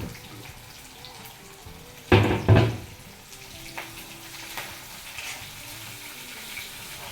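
Green chillies, onion and curry leaves are dropped into hot oil in a pan, setting off two sharp sizzling bursts that settle into a quiet, steady frying crackle.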